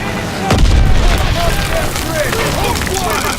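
A heavy boom from gunfire and an explosion erupts in a World War II video game, followed by a sustained loud rumbling battle roar with overlapping voices shouting.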